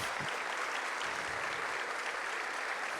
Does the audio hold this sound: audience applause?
yes